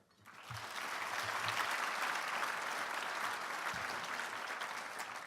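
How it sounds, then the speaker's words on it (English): An audience at a mayors' breakfast breaks into applause for the St. Paul mayor, the clapping swelling quickly after a brief pause and holding steady, a little distant. "want to give a huge round of applause to my good friend and colleague right here in St. Paul, Mayor Melvin Carter"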